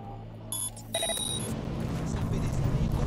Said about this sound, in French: C'est une alarme.